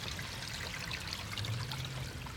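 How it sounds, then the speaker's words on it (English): Clean water gushes from an opened RV waste tank valve in a steady, close rushing pour with no pauses and no voices. "Now here comes all that clean water."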